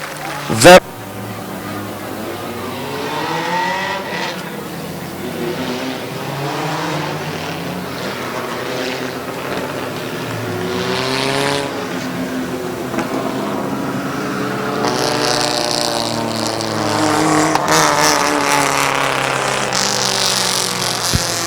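Race cars at a Midvale speedway short-track event rumble and rev as a car pulls to the starting line, engine drone rising and falling beneath a loud PA announcer, with a sharp bang near the start.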